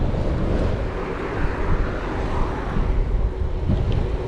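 Wind buffets a microphone during a road bike ride, a loud, steady low rumble and roar with no pauses.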